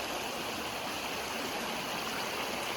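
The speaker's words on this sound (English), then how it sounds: "The riffles are flowing perpendicular to the flow of the water" Steady rushing of creek water over riffles, a broad continuous babble with no breaks, fairly close and uninterrupted by voices.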